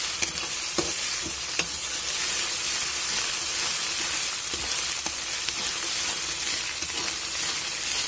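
Ginger paste fries in a pan for a curry-point-style chicken fry, a steady close sizzle with occasional stirring clicks from a utensil, no talking.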